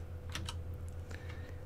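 Several quick keystrokes on a computer keyboard with small tactile notches, clustered near the start and scattered lightly after, close and fairly quiet over a steady low electrical hum.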